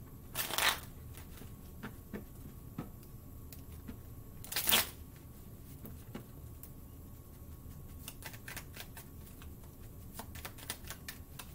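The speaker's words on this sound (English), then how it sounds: "Sorry, let me just reshuffle those." Tarot cards being reshuffled by hand, with two brief riffling bursts near the start and middle and soft card handling and tapping in between, close and fairly quiet with no talking.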